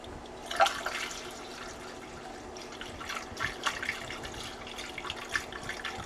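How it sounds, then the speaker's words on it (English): Coolant poured into the engine of a Westsail 32 sailboat makes a faint, steady trickle of liquid with a few small splashes and gurgles, heard alone at low level. "I'm just gonna pour this shit in until it starts to come up into this overflow hose"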